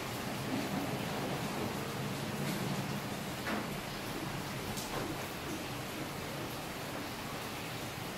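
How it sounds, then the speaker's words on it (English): Heavy rain pours steadily outside during a typhoon, a dense, even hiss with no breaks, heard on its own without talk. "As you can see, it's raining hard outside."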